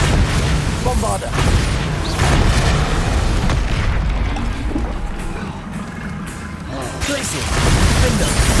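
Bombarda blast spell explosions in the Hogwarts Legacy video game, loud booming bursts that rumble under busy combat noise and overlapping voices, several heavy impacts spread across the fight.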